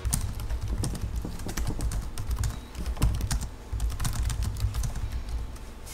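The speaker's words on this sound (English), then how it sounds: "it feels nice to the touch and has a satisfying sound while typing" Rapid, crisp keystrokes on an Asus Zephyrus G15 laptop keyboard clatter up close in an irregular, continuous typing rhythm.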